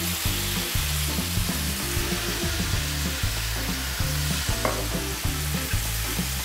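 Chanterelle mushrooms sizzle steadily as they fry and brown in a pan, a continuous close crackle with repeated scraping stirs throughout and no talking.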